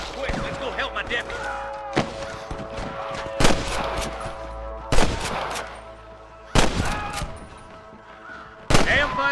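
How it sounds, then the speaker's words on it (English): Gunfire in the video game Red Dead Redemption: four loud, sharp shots spaced a second or two apart, each ringing briefly over a busy game soundscape of lighter clatter and tones. "I can hear more gunshots."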